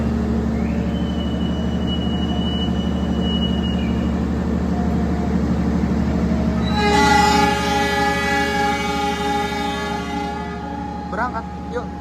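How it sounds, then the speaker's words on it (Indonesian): A Doho passenger train at Jombang station in East Java sounds a long, loud horn blast midway through, its steady tone ringing against constant station rumble and engine hum, with a brief lighter horn note near the end. "Kereta api Doho dengan tujuan akhir stasiun Blitar lewat Kertosono."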